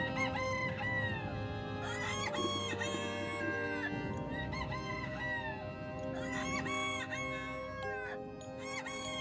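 Several roosters crow repeatedly, overlapping calls rising and falling near and a little farther off, with some clucking underneath and no talking.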